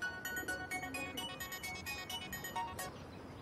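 A mobile phone ringtone plays in short repeated electronic bursts, fairly close and clear, stopping just before the end.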